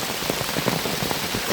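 Steady rain drums on a surface close by in Nepal, a dense continuous patter with no voices and no breaks.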